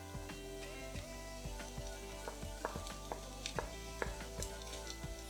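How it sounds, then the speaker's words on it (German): Onions and ham fry in a pan with a quiet, steady sizzle, broken by regular light clicks and scrapes as the food is stirred, close up with no speech. "Wenn die Zwiebel glasig ist, den Schinken hinzufügen und beides kurz anbraten."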